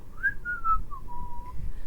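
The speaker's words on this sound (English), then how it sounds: "said the footman and began whistling" A single person whistles a short wavering tune of a few sliding notes, close and clear over a quiet background, with no talking.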